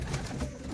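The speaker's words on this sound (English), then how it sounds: "She does tend to coo at people, almost like a cockbird would." A pet pigeon kept in a loft gives a short, close, low cooing call, soft and rounded, under a fuzzy indoor background.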